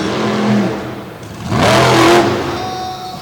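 Barbarian monster truck's engine revving hard in a small indoor arena during a Monsters of Destruction show, a loud surging roar that swells, dips, then climbs again to a sustained peak.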